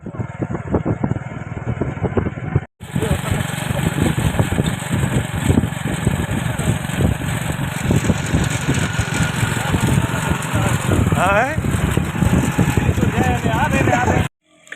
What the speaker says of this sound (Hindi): हुन पिछू मोटरसाइकिल ते वेंदे पे